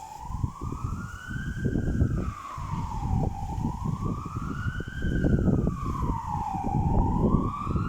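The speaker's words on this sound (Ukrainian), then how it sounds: "Десь сирена виє" A siren wails in slow rising and falling sweeps, moderately distant, over a steady rumble of wind and traffic noise in central Kraków.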